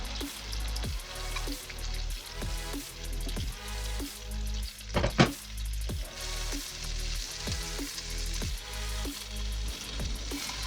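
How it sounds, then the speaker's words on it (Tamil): Marinated tandoori chicken frying in butter in a pan on a kitchen stove, a close crackling sizzle with rhythmic bursts and a brief louder spatter midway, no speech. "ரெண்டு சைடுமே திருப்பி போட்டு நல்லா ஃப்ரை பண்ணி எடுத்துக்கோங்க."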